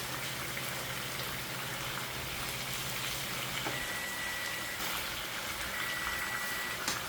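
Food frying in a pan for a Puerto Rican dinner gives a steady, close crackling sizzle that holds evenly throughout, with a faint tone briefly appearing and no one speaking.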